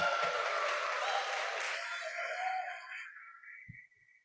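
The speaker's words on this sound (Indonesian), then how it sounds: "Tepuk tangan." Audience applause greets a guest introduced on an Indonesian show; the dense, steady clapping holds for about three seconds, then thins and fades away, leaving near silence.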